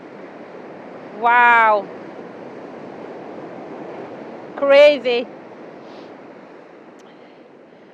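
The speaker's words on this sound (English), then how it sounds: "So what we need is some gentler waves, maybe." Ocean waves break on Traigh Bheag beach on the Isle of Harris, a steady, close broadband roar of surf and wind. A voice briefly exclaims twice over it.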